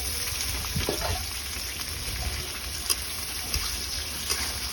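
Dried red chillies and onion frying in hot oil in a pan, a steady soft sizzle with occasional faint crackles and light stirring, continuous and fairly quiet.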